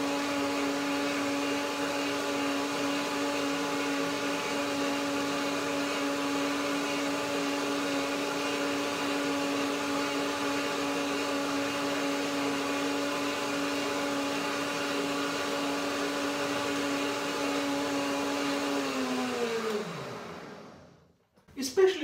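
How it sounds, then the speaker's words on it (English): A countertop blender whirs steadily while blending cashew curd with parsley, chives and spring onion, a loud constant motor drone lasting about twenty seconds before winding down and stopping. "Blender dance one more time."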